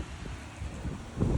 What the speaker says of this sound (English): sorry, it's a little windy. Can't even hear myself talk.